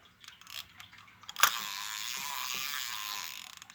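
A vintage fishing reel's anti-reverse gives off rapid close mechanical clicking as the handle turns, small ratcheting ticks, one sharp snap, then a steadier whirring click train.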